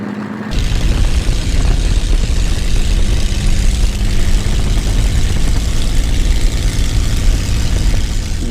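A P-51 Mustang piston engine drones in flight with a loud, steady low propeller roar, heard from inside the cockpit and buffeted by wind noise.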